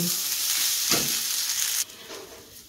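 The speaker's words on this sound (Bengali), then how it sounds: "একটু ভালো করে চালটা ভাজা ভাজা হয়ে যাক" Rice for pulao frying in a pan, a loud close sizzle with a stirring scrape, then dropping sharply to a quieter hiss partway through, with no talk.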